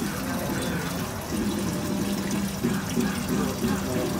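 E85 fuel draining out of a Mitsubishi Evo fuel tank, a continuous splashing liquid pour with a steady gurgle, close and moderately loud, with faint background voices.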